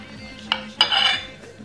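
Stuffing for a stuffed leg of lamb being mixed in a bowl, with a couple of sharp clinks of a utensil against the dish and a brief scraping stir, close and moderately loud.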